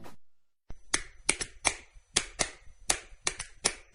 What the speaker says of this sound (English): What's the universal language of a fan? Clapping your hands.